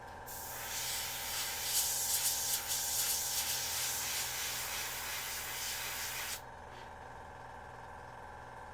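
A Meeden 0.5mm airbrush sprays paint in a steady, close hiss for about six seconds, then cuts off, leaving a quieter background hum.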